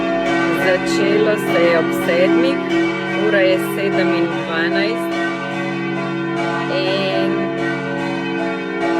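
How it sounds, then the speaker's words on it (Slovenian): Four bronze church bells ring continuously in the village of Hrastje, a sustained, resonant peal that holds steady throughout while a person talks over it. "Takrat 4 bronasti zvonovi zvonijo 3krat na dan, neprekinjeno po 18 minut"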